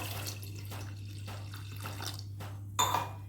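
Water pours and splashes into rava dosa batter in soft, uneven gushes, with a brief louder splash near the end; no one speaks.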